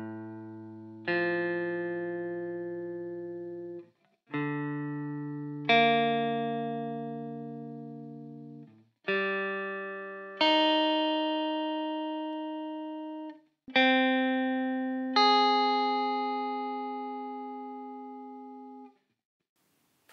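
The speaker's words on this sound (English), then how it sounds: "I will play you flat 6 over all strings so that you can have a listen." Guitar plucking flat sixth intervals string pair by string pair: four two-note dyads, each lower note struck first and the upper note added, ringing and fading in a steady, evenly spaced sequence with no voice.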